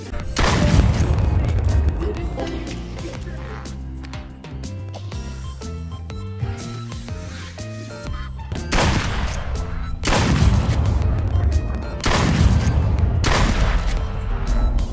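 Gunshots from the video game Duck Season ring out as several loud, sharp blasts in separate bursts over steady game music.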